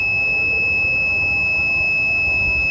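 An IoT smoke detector prototype's buzzer sounds as a steady high-pitched continuous tone, constant and unbroken, over faint background noise with no speech.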